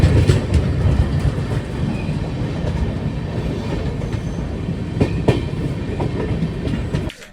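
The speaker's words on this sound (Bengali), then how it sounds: "ছেড়ে দিয়েছে আমাদের ট্রেন দেহরি আনসান স্টেশন থেকে" Ajmer Superfast Express pulling out of Dehri-on-Sone station in Bihar, with a steady close rumble and rhythmic clickety-clack of wheels over rail joints throughout, ending abruptly.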